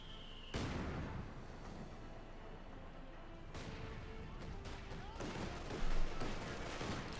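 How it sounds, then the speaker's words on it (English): Gunfire and cannon blasts from a Company of Heroes 2 battle, including a 75mm StuG assault gun firing, with sharp bursts and a louder impact near the end over dense continuous combat noise, while a commentator talks. "Good hit with the 75mm Sturmkanone"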